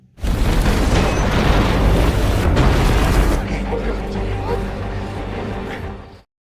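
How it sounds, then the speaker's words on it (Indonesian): A loud, sustained explosive roar of a mine explosion with rumbling low end, continuing for several seconds before cutting off abruptly. "tambang tersebut mengalami kebocoran dan akhirnya meledak"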